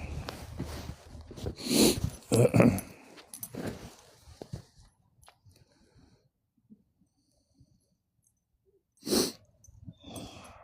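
Huskies in fresh snow give close snorts, sniffs and huffing breaths in a cluster of bursts. A long quiet stretch follows, broken by one more sharp snort near the end.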